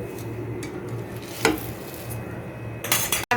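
A spoon stirs a boondi batter mixture in a bowl, making soft scraping swishes with a couple of light clinks against the side, close and fairly quiet over a low background hum.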